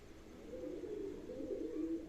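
A molting pigeon offered for sale gives a soft, continuous throaty coo that swells and eases over about two seconds, faint and close with no talk.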